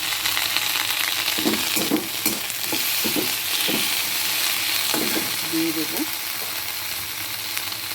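Tomato tipped into curry leaves frying in hot oil for an arhar dal tadka, giving a loud, steady sizzle with a few clattering stirs near the start, close up and without talk.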